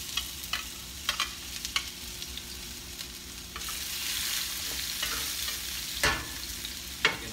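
Garlic sautés in a pan for Filipino pinakbet with chicken, giving a soft continuous sizzle broken by scattered scrapes and clacks of stirring, which grow louder near the end, with no talk.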